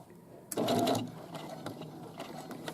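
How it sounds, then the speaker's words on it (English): A home sewing machine stitches a trouser side seam with a pocket, giving a short burst of whirring motor and needle chatter, then quieter handling sounds and light tapping. "I'm going to back stitch a couple of stitches"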